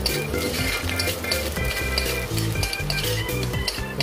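Onions sizzling and frying in a pan for vegetable pulav, cooked on an electric stove; a steady, close crackling hiss runs throughout with faint clinks of a utensil.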